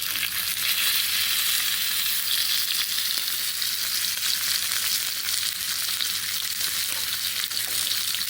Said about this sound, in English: The aim is that I'm gonna be searing these off.